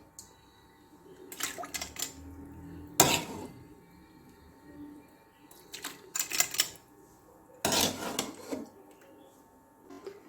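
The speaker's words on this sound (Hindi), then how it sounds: "ये मैं चावल इसमें डाल दूँगी और चूल्हे पे रख दूँगी।" Rice poured into a large cooking pot and the pot set on a stove, several separate bursts of rattling, clattering grains and a sharp metallic knock, close and moderately loud with quiet gaps between.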